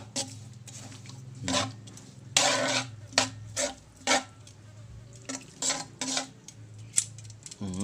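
Spoon mixing ingredients in a bowl, with close clinks and scrapes coming in uneven bursts over a low steady hum.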